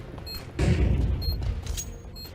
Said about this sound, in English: Bomb has been thrown. Flashbang.